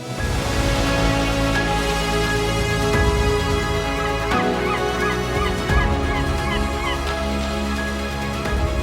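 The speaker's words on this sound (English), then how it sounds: "This is the sound of those lovely birds in the Lofoten." A loud chorus of birds in Lofoten, Norway honks and calls continuously, many voices overlapping in a busy, raucous din close by.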